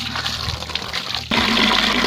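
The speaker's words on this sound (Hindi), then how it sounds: "पहले इस पुराने पानी को फेंक देते हैं।" Old water is tipped out of a container at a mountain stream, and a sudden rushing splash starts midway and continues steadily, close and fairly loud after a quieter watery stretch.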